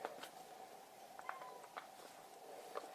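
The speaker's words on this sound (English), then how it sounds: "It's my cat." A house cat meowing nearby during a fire alarm system inspection, giving a few short, faint mews over a steady electrical hum.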